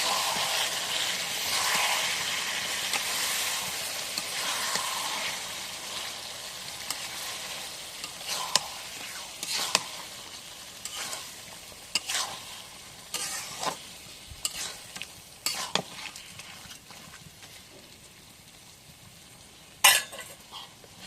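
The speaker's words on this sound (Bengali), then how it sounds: "এখন নাড়া দিই।" Goat meat frying in a pan in a village kitchen, stirred with a utensil: a steady hiss fades gradually while sharp metallic scrapes and clinks come at irregular intervals, close by, with no one speaking.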